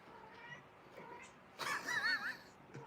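A little kitten meows insistently at its mother, a rising, wavering cry near the end following a quieter stretch of soft background noise and faint murmuring.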